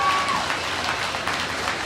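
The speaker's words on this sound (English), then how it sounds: "Let's give all of them a big round of applause." An audience claps for competitors at a junior market lamb show at the Arizona National livestock event, a dense burst of applause sustained at even volume across the short stretch.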